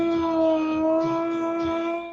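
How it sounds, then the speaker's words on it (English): A dog in Houston, Texas howls and whimpers after being left alone at home, a steady, sustained wail held loud and close with small wavering cries throughout. "This Houston, Texas dog is very upset."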